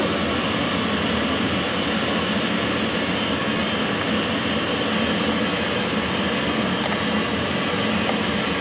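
An F-16 jet engine roaring at full throttle with afterburner lit, a loud, continuous broadband rumble and hiss that stays steady and close throughout.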